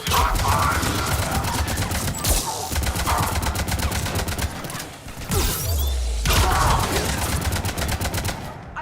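Mass Effect 3 gunfire rattles in rapid, steady automatic bursts for most of the stretch, loud and close, broken by brief pauses and a heavy thud, with little talk.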